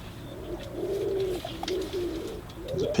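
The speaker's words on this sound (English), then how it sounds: "There's a pigeon directly above my head virtually." A pigeon coos from a tree almost directly overhead during outdoor squirrel pest control, a repeated soft throaty rolling call, fairly close, with faint background noise and no talking.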